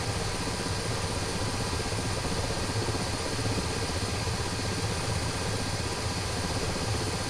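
Helicopter in a video game mission, a continuous rotor and engine roar that stays steady and close for the whole stretch, with no speech.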